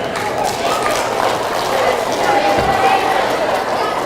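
Students in a middle school assembly clap together in a steady, dense burst of applause that fills the room.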